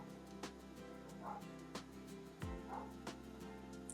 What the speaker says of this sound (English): Sorry for my neighbor's dogs barking, if you hear them.